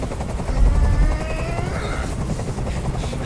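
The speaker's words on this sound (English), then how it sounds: "I can't stand that noise anymore. Tell that helicopter to get out of here." A helicopter in the video game Detroit: Become Human thrums steadily and loudly, its heavy low rotor pulse strongest early on, then continuing as a constant droning wash with no talk.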